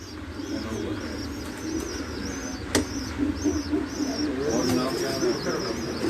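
Pigeons coo repeatedly in a loft belonging to a pigeon fancier, steady rhythmic calls with chirps over a constant background hum, fairly close and clear, with a brief louder knock midway.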